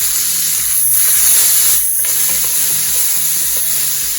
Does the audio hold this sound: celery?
yes